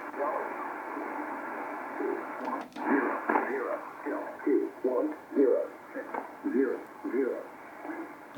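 A weak radio signal comes through switched antennas: band-limited, hissy shortwave-style reception with a faint voice fading in and out beneath steady static, moderately quiet throughout.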